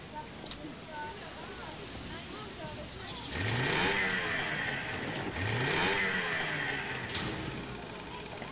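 A small tied-up motorboat engine in the game Secret Files 2 starts and runs, a mid-pitched motor drone rising in two swelling revs over a steady hum, fairly close and without speech.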